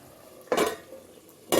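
Two clattering knocks of a plate set over a pan of egg masala as a lid, each brief and sharp, the second a second after the first, with a quiet sizzle underneath.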